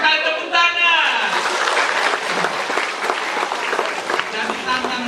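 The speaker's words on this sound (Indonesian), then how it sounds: "Oh, jujur sekali, tepuk tangan" Audience applause at a church youth jamboree, a full burst of clapping up close after a voice, holding steady and slowly thinning, with talk mixed in.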